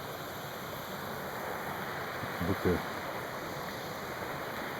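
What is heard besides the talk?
river flowing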